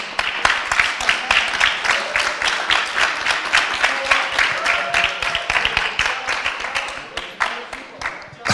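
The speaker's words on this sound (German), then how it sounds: "Ein Applaus." A live audience at a Roma youth meeting in Ohrid applauds with sustained, busy clapping, a few nearby hands sharper than the rest, before the applause thins out toward the end.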